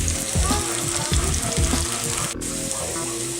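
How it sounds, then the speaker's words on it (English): Rice frying in hot, fragrant oil in a pan crackles and sizzles continuously, with soft scraping and stirring thumps throughout. "once we get that oil nice and fragrant, I am going to add the rice"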